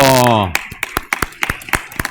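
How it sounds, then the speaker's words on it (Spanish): An audience gives scattered, light applause for Doctor Alcocer at a kidney-damage marker workshop, a handful of separate claps following a voice at the start. "Un aplauso al doctor Alcocer"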